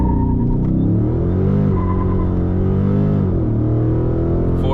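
A Dodge Charger accelerating hard in a 0 to 60 run, a loud, close engine roar climbing in pitch through the gears with brief dips at each shift, heard from inside the car with no talk.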